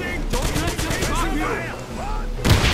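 Gunfire and a blast crackle under chatter in Wolfenstein (2009), with a sharp burst of noise near the end from a grenade explosion.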